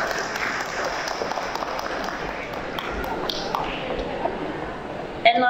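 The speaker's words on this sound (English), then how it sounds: "Please give them a round of applause." Audience applause at a community event after a performance by a Karen community language school in Sydney, a steady wash of clapping from a crowd, moderately loud and continuous, ending in a brief sharp sound.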